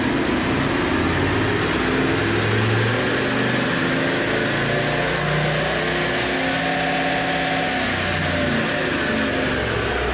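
A Toyota Landcruiser 79 Series with a big exhaust and up pipes runs steadily on a dyno, giving a loud, continuous engine drone with a slowly varying pitch and no voices.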